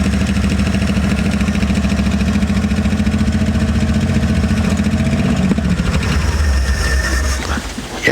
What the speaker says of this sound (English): 25 years and she's running. Here's some valve noise.